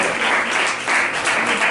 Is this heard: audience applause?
yes